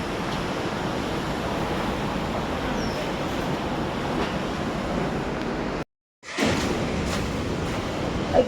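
Strong typhoon wind roars as steady, loud broadband rushing that fills the whole stretch, broken by one abrupt silent gap before the gusting noise resumes.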